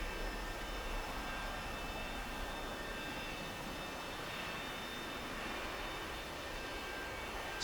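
An A-4E Skyhawk's jet engine idles steadily after cold start in a flight simulator, a constant broadband whine and rumble with faint high tones, even and unbroken throughout.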